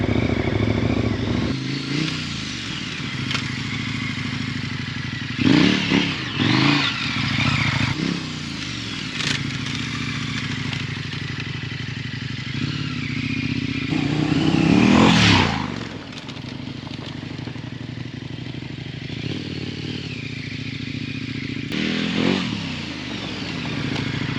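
A dual sport motorcycle rumbles steadily while riding over grooved dirt ground, with louder surges and clattering bumps around the middle as the bike follows the ruts, staying close and continuous throughout.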